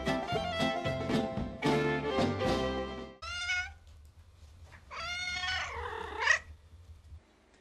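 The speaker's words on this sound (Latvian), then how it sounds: "Klāt marts, un tas jau ir arī kaķu mīlas dziesmu laiks." Cats caterwaul during the March mating season, loud drawn-out yowls and wavering wails rising and falling in several bursts, separated by brief quieter gaps near the end.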